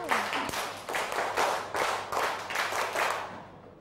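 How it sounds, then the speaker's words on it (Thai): Children clap their hands in an exercise activity, about ten quick bursts in a steady rhythm, fairly close and moderately loud, with no talk over them. "ใครคิดว่าวันนี้แข็งแรงปรบมือสิบครั้ง"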